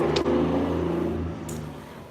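A loud road vehicle passes on the street outside, its deep rumbling engine sound gradually fading, with no talking.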